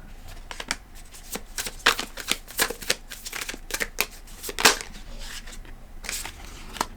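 Tarot cards riffled and flicked from a deck, a run of crisp rapid snaps and papery slaps in irregular bursts, close and fairly clear with no talking.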